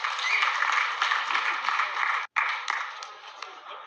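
Audience applause fills a large meeting hall in Naivasha, a dense, steady wash of clapping that breaks off for an instant and then resumes as sustained clapping.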